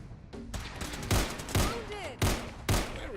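Gunfire in Fallout 4, a close volley of sharp repeated shots in rapid succession, with several heavier blasts standing out among the steady crackle of game combat.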